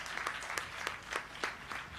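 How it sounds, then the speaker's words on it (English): A small audience at a talk show on gender-based violence prevention gives a light, sparse round of applause, soft clapping with a few louder claps at irregular intervals. "they deserve a thunderous round of applause"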